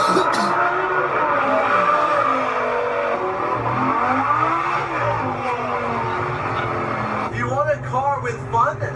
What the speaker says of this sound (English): This car is a rear wheel drive, so which means that you can, like, slide around really easy.